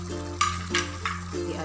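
Ground chili fries in a pan while a spoon stirs it, making repeated scraping strokes over a steady low sizzle at close range.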